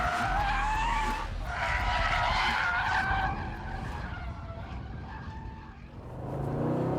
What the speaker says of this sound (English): So the engine, lovely V8 noise, automatic gearbox, relatively smooth shift